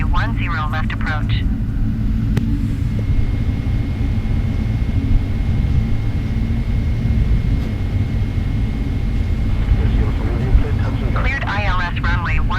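A Boeing 777-300ER airliner lands at Portland airport, heard as a loud, continuous low roar of engines and rushing air, with radio-style voices talking over the start and end.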